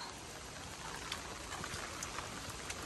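Steady rain patters down, a dense hiss of drops with occasional louder splashes close by.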